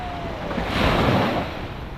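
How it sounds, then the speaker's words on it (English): On a Welsh pebble beach, an ocean wave swells and washes ashore in one rushing surge that peaks and then recedes, with wind buffeting the microphone. "there's a wave coming after you"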